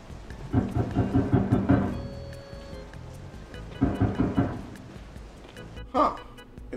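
Video game thunderstorm from Resident Evil 7: rolling thunder rumbles in two heavy bursts over steady rain, with a sharper crack near the end; no one talks.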